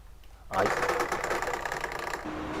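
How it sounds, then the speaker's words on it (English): A loud, steady mechanical rattling buzz starts abruptly and continues, a sim racing wheel's force feedback shaking a desk, with dense rapid juddering throughout. "And that is the sound of my wheel shaking the desk off."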